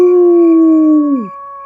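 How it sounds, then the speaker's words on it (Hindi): A single dog howls at night in a long, steady, loud tone that bends downward and fades out, with a faint lingering hum afterward. "दूर कुत्ते बोलते"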